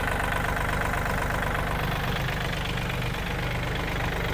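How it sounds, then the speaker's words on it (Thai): A Kubota L4018 4WD diesel tractor engine idles steadily up close, a continuous loud rumbling chug with no voices. "เครื่องนะครับ สตาร์ตติดง่ายนะครับ"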